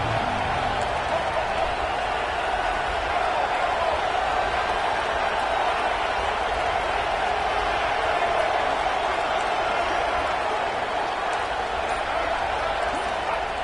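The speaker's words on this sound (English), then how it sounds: "And here comes the noise. This crowd is trying to inspire this defense to make a big red zone stop." A football stadium crowd roars in a steady, loud wall of noise as the home defense tries for a red zone stop, with commentary over it.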